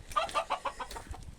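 Young rooster, son of the hen Victoria, clucking in a quick run of five or six short, nasal notes, fairly close but quiet, with faint background noise and no talk.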